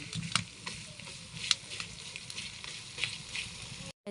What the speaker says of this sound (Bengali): আর কাঁচামরিচ দিয়ে ভাজতে থাকবো।